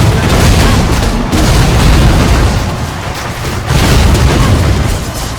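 Enemies exploding in a video game during a ranger's molten strike attacks, loud overlapping booms and blasts in dense bursts with a brief lull midway.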